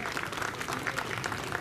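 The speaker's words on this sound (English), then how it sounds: "they deserve a big round of applause at this moment." Crowd applause at an outdoor star festival and carol singing competition in Calangute, a continuous patter of many people clapping, fairly loud and steady with no speech on top.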